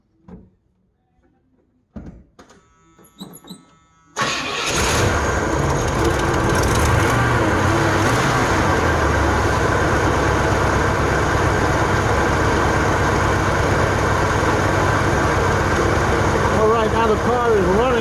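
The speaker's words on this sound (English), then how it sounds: "Now the car is running." A 1977 Pontiac LeMans engine cranks and catches after a few quiet clicks and handling noises, then settles into a loud, steady idle that runs on close by, with someone talking briefly over it.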